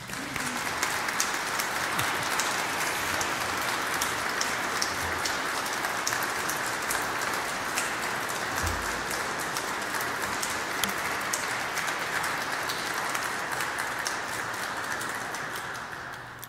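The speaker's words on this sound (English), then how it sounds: "I think it's the last opportunity for him to applaud him." Sustained applause from a church congregation at an episcopal ordination, honoring a departing bishop; dense, even clapping from a large crowd fills the space continuously for a long stretch, hissing like rain, with no talk over it.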